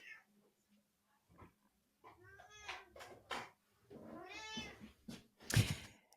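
A house cat meows repeatedly, mewling close to the mic with a sharp cry near the end, as a voice talks intermittently around it; no clear scratching at the door stands out.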